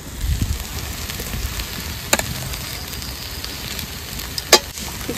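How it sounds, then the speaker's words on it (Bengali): Mixed vegetables stir-frying in a pan for homemade fried rice give a steady close sizzle, with a couple of sharp clinks or scrapes from the spatula. "তো এবার কিছুটা সবজিও দিয়ে দেবো,"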